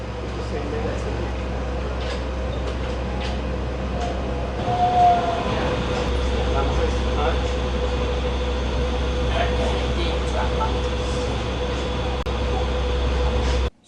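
A Dubai Metro train stands at the platform with its doors not opening, a steady low rumble and hum of the train and its air conditioning filling the whole stretch, with some faint voices in the background.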